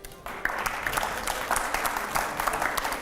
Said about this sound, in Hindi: तालियां नहीं रुकनी चाहिए